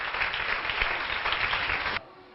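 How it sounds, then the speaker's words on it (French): Applause at a ceremony honouring a donor, dense steady clapping from a crowd that cuts off abruptly near the end, leaving quiet room tone. "Applaudissements."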